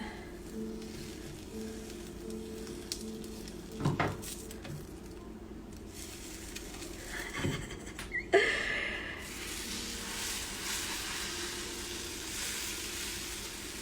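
A crepe frying in a pan gives a quiet, continuous sizzle, interrupted by a few scraping and clattering bumps as two spatulas work underneath to flip it.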